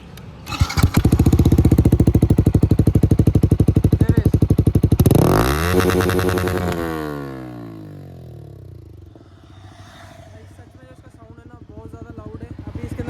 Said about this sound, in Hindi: इसका मैं आपको एग्जॉस्ट नोट सुनाता हूँ, कितना शानदार आएगा ना आवाज़